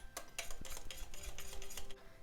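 A spoon stirs pancake batter in a bowl with quick, regular strokes, clinking and scraping against the sides roughly five or six times.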